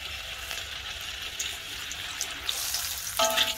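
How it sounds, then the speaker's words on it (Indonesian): Thin cassava crackers (opak singkong) with grated coconut and scallion frying in hot oil: a steady, close, bright sizzle that flares louder near the end as more crackers hit the oil. "Mau kita goreng ya, kita coba goreng."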